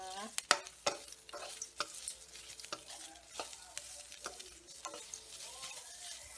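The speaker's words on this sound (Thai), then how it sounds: "คั่วพริกกับหอมแดงก่อนนะคะ คั่วให้สุกให้หอมนะคะ" Chilies and shallots dry-roasting and being stirred in a pan for a Thai Isan cricket chili dip, with close, irregular scraping and tapping strokes over a low, steady sizzle.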